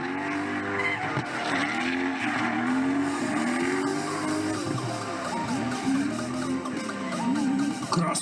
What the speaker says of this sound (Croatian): nastupa nam ovdje sa BMW-om, unutra je Toyotin R8 motor, 300 i nešto konja